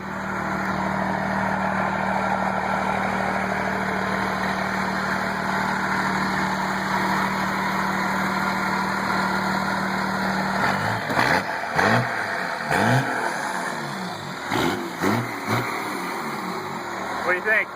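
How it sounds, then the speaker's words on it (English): A 1990 Dodge turbo diesel truck engine holds a loud, steady idle drone, then gets revved in several short bursts that rise and fall in pitch. "Go in there and go rev it a little bit."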